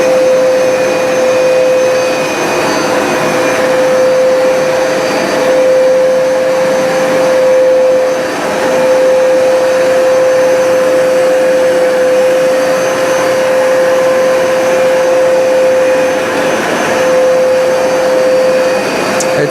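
A Hoover SmartWash carpet washer runs on carpet with a loud, steady motor roar and a high whine, slight dips as it moves back and forth, no voices.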